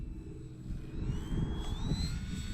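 A Durafly Tundra RC plane flies low and close, its engine a steady buzzing drone with a rising whine that swells louder midway through, no talk over it.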